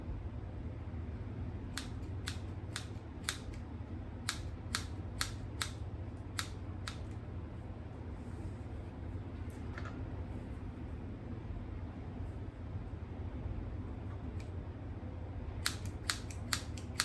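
Scissors snip through hair in rapid bursts of crisp clicks, several quick runs near the start and end with a long quiet gap between them, close and fairly faint over steady room hiss.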